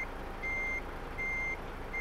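A truck's reversing alarm sounds while it backs into a bay in Euro Truck Simulator 2. Steady, evenly spaced electronic beeps ring out over a low engine rumble.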